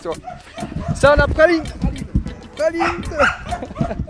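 A family dog yips and whimpers in short bursts close by, mixed in with lively French-speaking voices talking over it.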